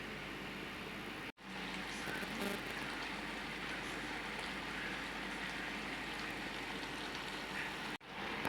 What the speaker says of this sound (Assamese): আৰু এইখিনি এতিয়া মই ভালদৰে ঢাকোন লগাই অলপমান উতলিব দিছোঁ।